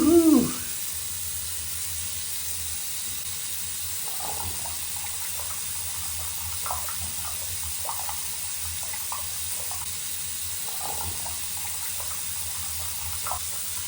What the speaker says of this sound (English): Now that is the sound of the drain declogging.